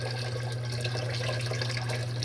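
Hot water from a washing machine steadily filling a pitcher, a continuous close rushing and splashing flow with a low hum beneath, no talk.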